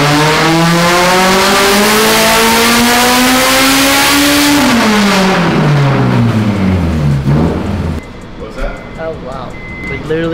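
A turbocharged Honda F22C engine on a dyno screams under load, its pitch climbing steadily for several seconds, then dropping sharply as the throttle closes, followed by a quieter idle, very loud and close throughout.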